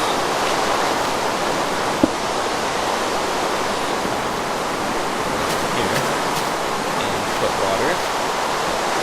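Flowing water from buckets being placed in Minecraft, a steady, broad rushing wash that holds evenly throughout with a faint click partway through.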